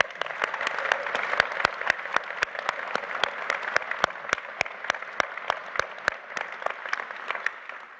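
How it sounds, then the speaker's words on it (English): An audience at a gala event breaks into a sustained round of applause, many hands clapping steadily and loudly for the full stretch, with sharp individual claps standing out from the dense wash. "big round of applause, everyone"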